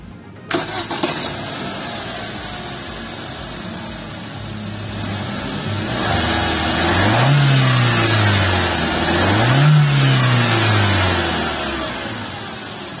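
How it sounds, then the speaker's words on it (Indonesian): A 2022 Wuling Confero with a 1500cc engine cranks and fires, settles into a steady idle, then is revved twice in smooth rising and falling sweeps, loud and close with no talking. "kita pengen coba startup dulu. Kayak apa sih suara mesinnya?"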